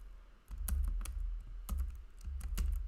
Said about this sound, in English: Let me type it in differently.